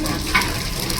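Mustard seeds, asafoetida and other spices sizzle briefly in hot oil, a short close crackle over a low steady hiss.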